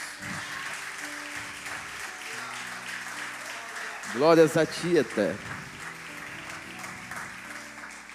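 Church congregation applauding during a worship service, a short burst of clapping and cheering that swells and fades over a few seconds while a preacher speaks before and after over quiet background music.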